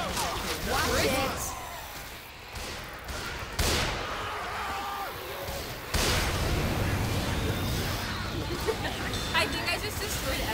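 Gunfire in a Left 4 Dead 2 survival match, repeated bursts of shots and blasts over busy game noise, with players talking throughout and sharp loud onsets at several points.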